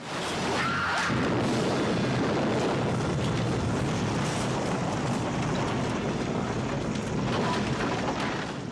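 Explosion in a film scene of a suicide bombing: a broad, loud roaring blast that fills the whole clip as a sustained rumble with whooshing debris, no voices.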